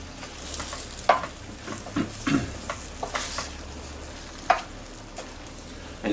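A spoon stirs Italian style collard greens in a pot, with soft scraping and a few sharper knocks against the pot over a faint sizzle, close by with no talking.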